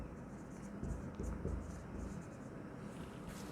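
Chalk or marker writing on a board gives soft scratchy strokes in short bursts, faint against a low background hum, while someone talks at the same time.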